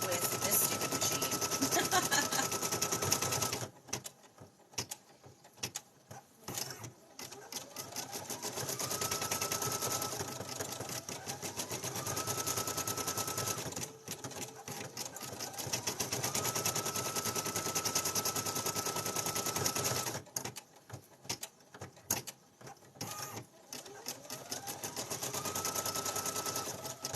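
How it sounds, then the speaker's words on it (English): A sewing machine winding a bobbin, steady loud mechanical whirring that repeatedly stops and restarts, with rising pitch sweeps as it speeds up, and a voice talking at times. "But I can guarantee you that I will never wind a bobbin with this stupid machine."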